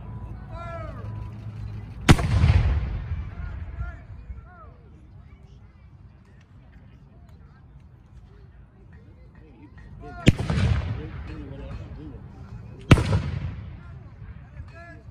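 Three loud booming cannon shots from artillery at a Revolutionary War battle reenactment at Great Bridge, each a sharp blast with a rolling tail, spaced several seconds apart, while someone talks between them.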